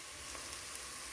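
Minced meat and onion frying in a pot, a dense steady sizzle with faint stirring crackles, no talking.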